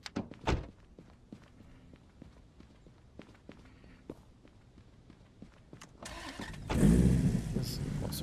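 In a video game, footsteps and a door thunk precede a muscle car's engine cranking and catching, settling into a low, rumbling idle near the end.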